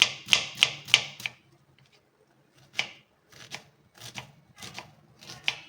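Knife chopping half an onion into small pieces on a board, sharp crisp taps in a quick burst of four, a pause, then more scattered cuts, close and clear with no talking.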